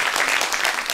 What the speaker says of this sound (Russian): Я считаю, что это заслуживает аплодисментов.